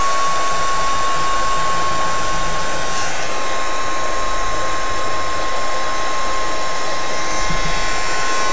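A heat tool blows steadily and loudly, drying a small squirt of pink paint on a mini album craft project in a keepsake box, an unbroken close whoosh with no talking.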